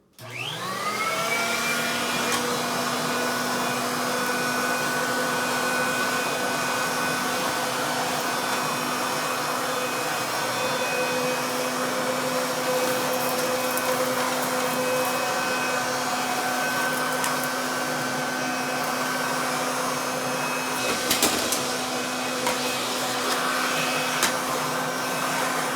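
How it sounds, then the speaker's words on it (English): A Sanitaire SC886F wide track vacuum cleaner runs on carpet, starting with a quick rising whine that settles into a loud, steady motor drone with a sustained high tonal hum, close by and uninterrupted. "I'm sure you guys know what vacuum that is just from the sounds of it."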